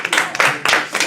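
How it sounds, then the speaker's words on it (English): Brief clapping from a small group in a classroom debate, a few uneven bursts of hands that come close and fairly loud. "Round of applause."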